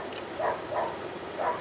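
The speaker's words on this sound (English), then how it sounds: "I have no idea what they were barking at" Dogs barking indoors at a distance, three short muffled barks spaced irregularly across a quiet background, with no talking.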